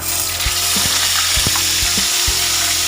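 Lapu-lapu fish frying in a pan after being flipped for a sweet and sour dish, a loud, steady oil sizzle with occasional soft pops and utensil taps, close and continuous.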